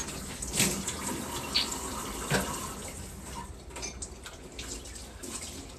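Kitchen tap water running steadily during dishwashing at home, a soft continuous wash with a few brief clinks and splashes, fairly close and alone with no voices.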